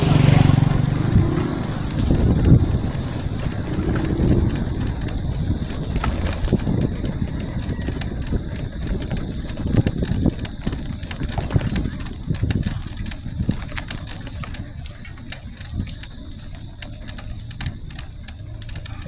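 A trail bike rides along the wet Tigtig trail through Barangay Tigtig, its engine a steady close drone under bumpy rattling from the terrain, with occasional talk.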